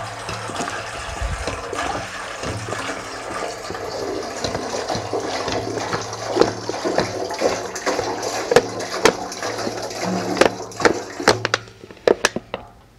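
Water poured into a metal canister during rust cleaning, a steady gushing fill that turns into uneven sloshing and clanking splashes toward the end, close and moderately loud.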